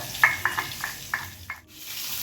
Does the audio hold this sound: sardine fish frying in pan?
yes